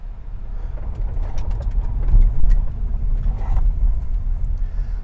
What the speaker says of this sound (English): see what happens when I apply the brakes as I am picking up speed